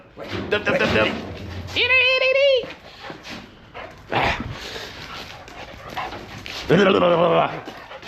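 A dog whimpers in long, high, wavering whines while shuffling about in a workshop, with several separate bursts of whining and soft movement noises in between.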